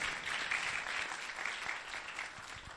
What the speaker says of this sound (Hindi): आइए यीशु मसीह के लिए जोरदार तालियां बजा दें हम।